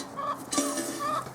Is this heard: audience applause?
no